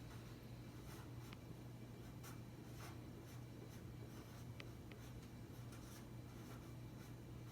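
Pencil or pen writing words on a sheet of paper at an outdoor campground lesson, a steady faint scratching with brief strokes over a constant low hum, no talking.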